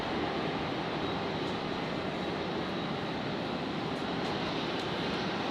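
A Jetstar airliner arriving on runway 01 left at Brisbane airport, a loud, continuous broadband jet roar that holds steady throughout, with no one speaking.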